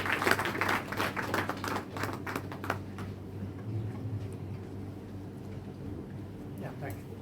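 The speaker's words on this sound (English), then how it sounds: "Please give a round of applause." A formal gathering applauds its chief guest, an ambassador, with a short burst of clapping that is strongest at first and dies away after about three seconds into a quiet room with a faint voice.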